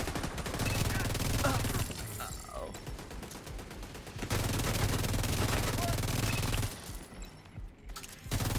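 Rapid automatic turret fire in a video game, dense and loud, rattling in sustained bursts with a short lull in the middle and a voice talking over it.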